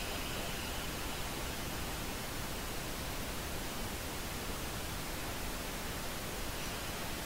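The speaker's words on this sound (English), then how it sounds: "this pink noise being generated." Steady broadband hiss of pink noise test signal played from a studio monitor speaker, continuous and even in level for the whole stretch, with no other sounds or voices.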